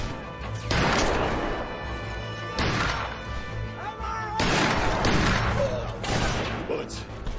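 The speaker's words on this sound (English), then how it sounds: "Bullets." Gunfire in a rooftop fight during the Cristero war, with loud repeated bursts of shots and crashing impacts in several waves, mixed with shouting and other sound.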